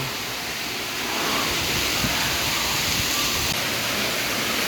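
Steady rushing of running water at a lagoon during a celebration at Westown Lagoon, a continuous broadband wash that holds fairly loud and even throughout, with no clear voices over it.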